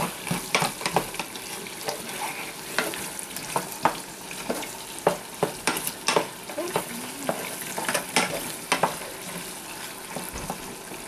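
Onions and potatoes fry in a pan while being stirred, giving a continuous crackling sizzle broken by frequent scraping and clattering strokes of the utensil, close and fairly quiet, with no talking.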